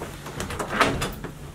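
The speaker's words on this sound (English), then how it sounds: "Closed doors up here? Yeah, you want me to open them up?" Doors in a run-down investment house in Cleveland are opened, giving a handful of soft knocks and clunks over about a second and a half with a faint creak in the middle, close by and fairly quiet.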